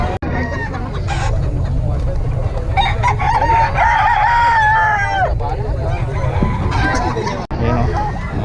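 Roosters crowing at a busy chicken market in Bocaue, several loud overlapping crows with clucking fowl over a constant crowd babble, and someone talking nearby.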